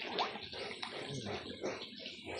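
Water runs into a tub holding tilapia, a faint, steady splashing and gurgling stream heard close up without talk.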